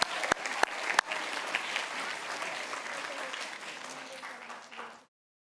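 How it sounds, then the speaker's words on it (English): Audience at a children's literature quiz world final applauding the leading teams, a full burst of clapping with a few sharp close claps and some cheering that tapers off and stops abruptly. "Give them a round of applause."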